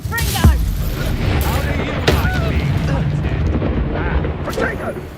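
A Confringo spell in Hogwarts Legacy sets off sharp explosive blasts, one early and one midway, over a loud rumbling battle bed, with a voice faintly underneath.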